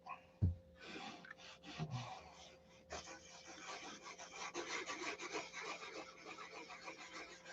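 Hand sanding on wood with sandpaper, rapid back-and-forth rasping strokes at close range, quiet at first with a couple of soft knocks, then a denser, steadier scrubbing rhythm with no talking.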